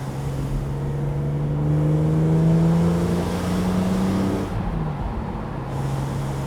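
A BMW Z4 M Roadster engine hums steadily while driving with the roof down, its tone rising gently under acceleration and then easing off, heard alone and close.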